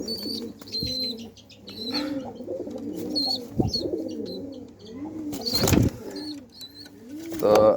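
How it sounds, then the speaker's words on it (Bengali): Two captured pigeons cooing in soft, repeated rolling calls, close by, with a few brief chirps and rustles scattered through. "তো আমরা অনেক দিন পর কবুতর ধরেছি দুইটা"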